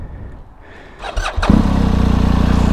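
A yellow-and-black BMW GS motorcycle is started: a starter whir and cranking lead into the engine catching, then settling into a steady, loud idle close by.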